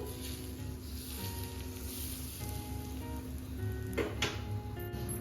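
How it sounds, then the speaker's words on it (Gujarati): Hot tempering of mustard seeds and asafoetida poured over a raw mango and onion salad gives a steady low sizzle that runs throughout, with a couple of brief louder crackles near the end. "હવે આપણો આ જે વઘાર છે એને આપણે આ જે સલાડ કચુંબર બનાવ્યું છે એમાં એડ કરી દઈશું"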